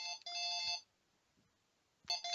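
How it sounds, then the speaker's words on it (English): A telephone rings in two electronic trill bursts, the first lasting most of a second and the second starting after a quiet gap, fairly loud with no talk. "Oh, bloody phone."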